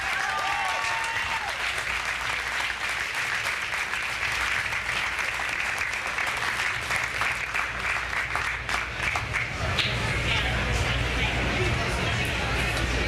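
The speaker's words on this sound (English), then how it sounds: "Please give her a round of applause." Sustained audience applause at a mayoral campaign launch party in Hartford, a dense wash of clapping that holds steady throughout, close and loud, with crowd murmur mixed in.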